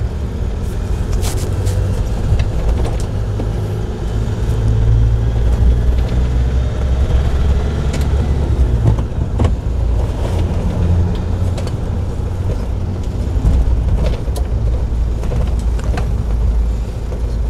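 A manual car engine hums and rumbles steadily at around 2000 RPM during a driving lesson on gear shifting, a continuous close drone with faint shifts in pitch and no talk.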